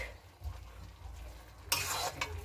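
Cabbage being stirred in a pan while cooking: soft low bumps, then a short burst of scraping and rustling strokes against the pan near the end, quiet and close. No voices.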